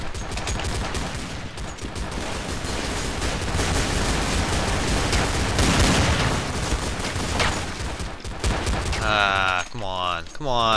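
Counter-Strike: Source gun game gunfire, including Desert Eagle pistol shots, booms loud and dense amid continuous firing and game noise, with a voice talking near the end.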